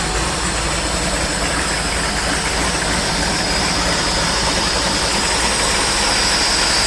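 Marine boat engine calibrated by Warner Marine running steadily just after being started, a loud, close, constant roar with low rumble and no pauses.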